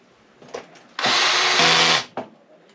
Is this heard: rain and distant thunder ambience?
no